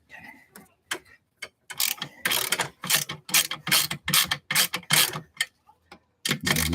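A ratchet wrench loosens bolts on a Jeep, clicking in loud, close bursts of rapid pawl ticks that start and stop with short pauses between strokes, with no talking over it.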